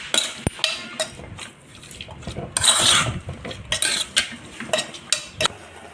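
Prawns being mixed with salt in a pan, heard as a run of close metallic scrapes and clinks of a spoon against cookware, uneven and busy, with a louder cluster of stirring in the middle.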